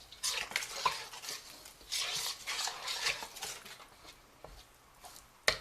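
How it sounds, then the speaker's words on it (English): Dinner roll dough being mixed and blended in a bowl, giving repeated scraping, stirring bursts with faint clinks of a utensil against the bowl, moderately close, with no talking. "So I'm going to put this in the mix. Then I will just blend that together."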